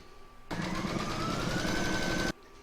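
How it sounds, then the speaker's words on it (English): An embroidery machine stitching layered fabrics onto its hoop, starting abruptly into a steady, rapid mechanical whir and stopping sharply after about two seconds, close and moderately loud. "I'm now going to pop that into my machine and stitch round number 2"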